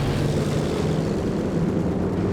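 A plane in the World War II strategy game Company of Heroes 2 drones overhead with a steady, loud propeller-engine hum that holds throughout.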